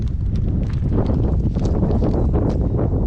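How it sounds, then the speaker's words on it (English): Steady, loud, cold wind buffeting the microphone on the Hyde Park footbridge, with continuous low rumble and gusty roar throughout. "it is windy and it is cold out here. Very windy, very cold."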